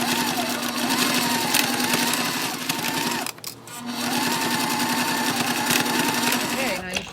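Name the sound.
sewing machine stitching a waist bag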